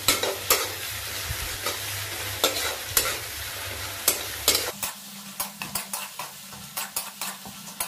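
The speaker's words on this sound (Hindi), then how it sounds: "उसके बाद मैं फ्राई करूंगा इसे" Onions and green chillies frying in a pan give a steady sizzle under repeated sharp clinks and scrapes of a spoon stirring against the metal, close and clear with no talk.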